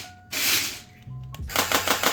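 Veeniix Storm Master V997 toy blaster fires two rapid bursts of clattering, ticking shots, the first short and the second longer and rhythmic, with a brief low motor whir in between.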